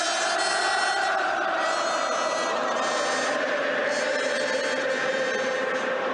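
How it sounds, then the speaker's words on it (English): Tottenham Hotspur fans sing from the South Stand at a Premier League match against Manchester United, a dense, sustained chorus of many voices rolling on steadily without a break. "The fans are in good voice"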